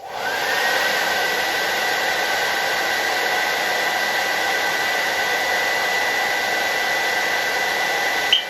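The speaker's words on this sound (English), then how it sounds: "I'm going to go ahead and activate this heat detector by just using a hair dryer." A hair dryer blows at close range onto a heat detector with a constant, loud, high-pitched whir that runs without a break until a brief click at the end.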